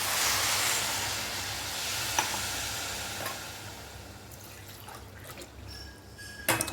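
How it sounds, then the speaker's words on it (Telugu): Water poured into a pot of fried rice while making vegetable pulao: a broad, steady splashing rush that is loud at first, then thins and fades toward the end, with a few small clinks. "3 గ్లాసులు వాటర్ వేసుకొని ఉడికించుకుందామండి"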